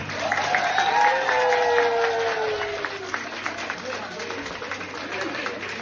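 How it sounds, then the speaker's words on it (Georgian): Warm applause from a gathered crowd of Georgians in Germany, steady clapping that fades into looser scattered claps while a speaking voice rides on top. "თუ შეიძლება რომ აქედან ქართველებს ერთი კარგი ტაში მივესალმოთ."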